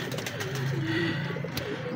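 Pet pigeons in a nesting loft give soft, close cooing calls, a couple of drawn-out throaty coos rising over a low steady background.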